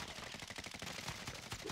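Rapid automatic gunfire from Call of Duty: Warzone (Modern Warfare), a dense continuous burst of shots filling the whole moment, loud and close with no talk over it.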